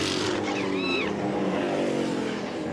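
V8 Supercar at the Bathurst 1000 sweeping past with a rising then falling engine roar and pitch shift, loud and close for a moment, with faint commentary voices beneath.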